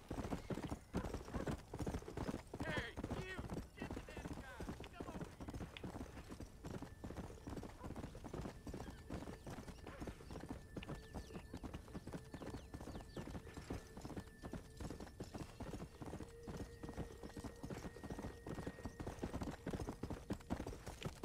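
Steady clip-clop of horse hooves trotting throughout in Red Dead Redemption, with an occasional whinny and game-like ambience and a faint tonal hum behind.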